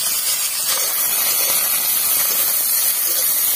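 Chicken pieces sizzle in a pan of hot oil during village-style chicken chop cooking, a steady loud hiss running unbroken throughout with no voices.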